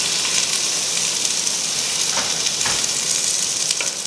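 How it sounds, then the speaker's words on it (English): Chopped garlic sizzles steadily in a hot pan, with a soft hiss throughout and occasional light scrapes as it is stirred. "Let's get stirring."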